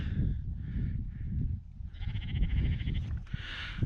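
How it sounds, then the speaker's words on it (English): A sheep on a hilltop by a trig point gives several short bleats, moderately close, over steady wind and outdoor background noise. "Mr. Sheep up at the trig."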